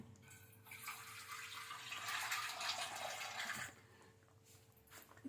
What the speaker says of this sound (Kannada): ಇನ್ನೊಂದು ಸ್ವಲ್ಪ ನೀರು ಹಾಕಿ